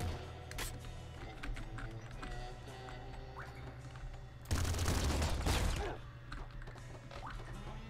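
A hyper rifle unloads a long, dense burst of bullets in the top-down shooter Nuclear Throne. Loud rapid-fire crackle lasts over a second, set against a busy background of game effects and music.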